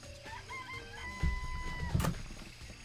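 A rooster crows in the Danganronpa video game, a single stretched call in the middle over a steady backdrop of game music, followed by a couple of soft clucks and thumps.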